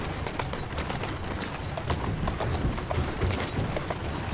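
Horse hooves gallop in a steady, rapid clip-clop through the Assassin's Creed Syndicate game world, loud and continuous, with a dense rumble of motion underneath and no talking.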